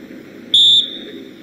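On an outdoor film set, a single short, shrill whistle blast rings out clearly as a cue over quiet background hum.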